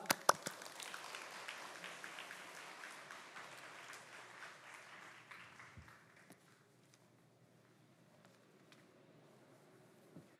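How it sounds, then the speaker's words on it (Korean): A church congregation applauds to welcome a guest pastor to the pulpit at an Easter service. The broad, dense clapping starts loud, then fades over several seconds and trails off into near quiet. "우리 한번 박수로 환영하겠습니다"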